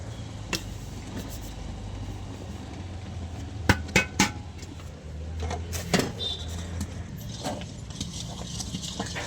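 A ladle stirs gram flour into boiling sugar syrup in a pan for Mysore pak, giving scattered metallic clinks and scrapes over a low, fairly quiet background hum.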